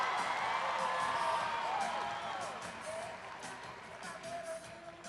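A rodeo crowd at barrel racing finals cheers and whoops from a distance, the noise swelling loudly then easing, with scattered shouts and clapping.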